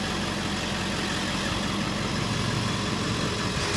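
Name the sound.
Ford F-250 flatbed truck engine idling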